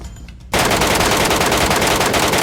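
Loud, rapid automatic gunfire from PUBG Metro opens abruptly after a quiet half second and keeps up a sustained rattling burst to the end.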